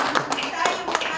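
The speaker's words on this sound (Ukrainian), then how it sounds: "А де аплодисменти?" A few sharp hand claps ring out in a brief burst while a voice speaks nearby.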